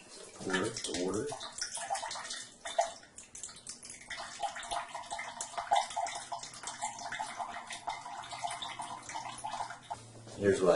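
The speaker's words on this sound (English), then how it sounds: "pour the water" Water poured out of a freshly bored coconut, a splashing, trickling stream running for several seconds with gurgles and drips, close up, with a voice talking over parts of it.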